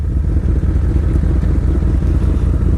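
A 2015 FC07 motorcycle is ridden hard, a loud, close and steady engine drone with a dense low rumble that holds evenly throughout, with no talk.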